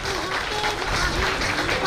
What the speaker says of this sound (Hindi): जोरदार तालियों से उत्साह बढ़ाइए।